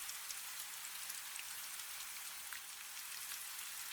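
Steady rainfall hisses evenly and continuously with fine patter, soft and unbroken with no voices.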